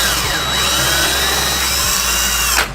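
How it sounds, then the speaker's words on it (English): A small bit drills a pilot hole into plastic, giving a steady, loud, close power-drill whine that runs unbroken for nearly three seconds and cuts off sharply at the end. "Got a small drill bit here. I'm going to do a pilot hole here, just so I'm not like bearing down on it"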